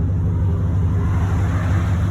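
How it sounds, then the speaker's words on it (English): A deep, steady exhaust rumble from an idling 2020 Chevrolet Silverado 3500HD pickup, low and continuous throughout. "As you can probably hear, exhaust on it as well."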